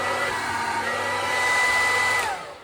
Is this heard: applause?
no